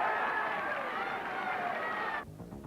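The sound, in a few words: crowd applauding runner finishing men's 5000m race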